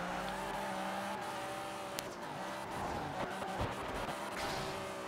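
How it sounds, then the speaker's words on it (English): A turbocharged racing car engine in a drifting video game roars steadily throughout, with a high turbo whine and brief tire-squeal-like bursts, loud and continuous. "listen to that turbo"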